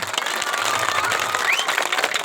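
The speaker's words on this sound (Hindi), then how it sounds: "सेमा गले गुटे बहुत जोर ताली हो जाऊ" A crowd at a village sports gathering honouring a champion team claps in a dense, continuous burst of applause, moderately loud throughout.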